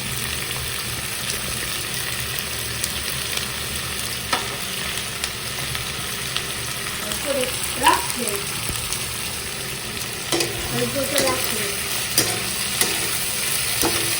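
Chili chicken fries in a pan as a prepared sauce is added and stirred in, giving a steady close sizzle. Scraping and stirring clatter come through at intervals.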